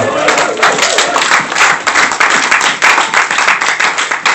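A church congregation claps and cheers loudly and continuously, acclaiming the name of Jesus during a sermon. The applause is dense and sustained, with crowd voices mixed in.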